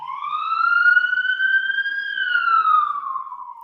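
An emergency vehicle siren sounds loud and close as it passes, one long sweeping wail that rises and then falls away, with no voices over it.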